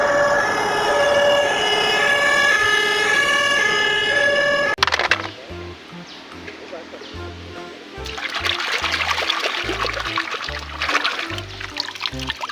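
A toy fire engine plays a steady electronic siren tone for about five seconds, then cuts off abruptly, leaving quieter clicks, handling sounds and a trickling water-like hiss.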